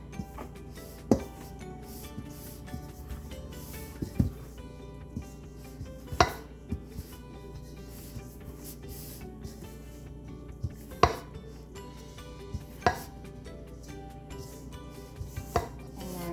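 A spoon stirs biscuit dough made with two cups of milk in a bowl, giving irregular knocks and scrapes against the bowl over steady background music.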